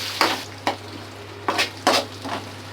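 Chunks of capsicum cut large stirred in a hot pan for gobi manchurian, giving a steady close sizzle with several scraping spoon strokes in irregular bursts.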